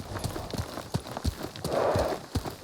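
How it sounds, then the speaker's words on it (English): Horse hooves clip-clop on the ground in the Ghost of Tsushima video game, a string of uneven, fairly close thuds with a brief rushing sound in the middle. "Horse!"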